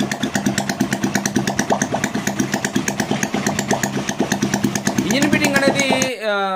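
A recently overhauled motorcycle engine idles close by with a steady, rapid pulsing beat and a faint crank knock, cutting off abruptly near the end as a voice starts talking.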